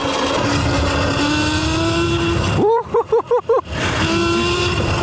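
A loud electric moped, similar to an Onyx, riding past with a steady motor whine that rises in pitch, cuts out into a series of choppy pulsing bursts, then settles back into a steady drone.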